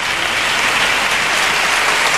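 A crowd at the 2001 Cádiz Carnival semifinals claps in a dense, steady wash of applause that fills the whole moment, loud and unbroken, with no voices standing out.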